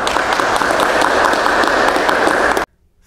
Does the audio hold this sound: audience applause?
yes